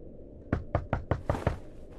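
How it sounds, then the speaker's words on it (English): Six sharp knocks on a door in The Wolf Among Us video game, evenly spaced in a quick run, fairly loud over a low background hum, with no talking. "they banging on my goddamn door"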